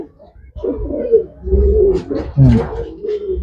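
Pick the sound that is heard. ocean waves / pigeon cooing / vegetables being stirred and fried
pigeon cooing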